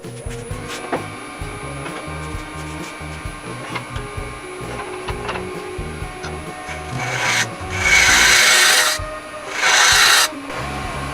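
A negative rake scraper smooths a small wooden plate turning on a lathe, giving a steady close rasping rub with a motor hum beneath and two louder, brighter scraping passes near the end.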